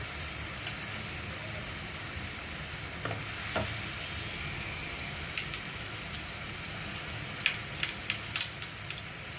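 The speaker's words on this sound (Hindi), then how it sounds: "प्याज को गोल्डन ब्राउन होने तक भूनेंगे। अब हम डाल रहे हैं, देखिए ये थोड़ा गोल्डन ब्राउन होने लगा" Onions frying with ginger garlic paste in a pan give a faint, steady sizzle, broken by scattered scraping stir clicks that cluster toward the end; no one speaks.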